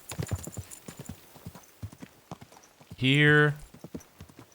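A horse's hooves clip-clop in a steady rhythm through a medieval setting in Kingdom Come: Deliverance II, and partway through the horse lets out a loud whinny. Someone speaks a single word.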